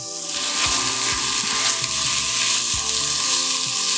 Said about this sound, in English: So first we're gonna add in our onions, as well as our garlic. And we're just gonna let this saute for a minute or two.